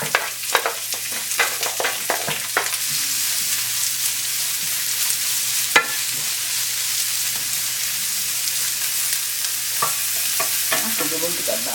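Onions hit hot oil with curry leaves and pandan for a Sri Lankan spicy tuna sandwich filling, crackling in a continuous close sizzle broken by scraping stirs of a spoon in the pan, with no talk.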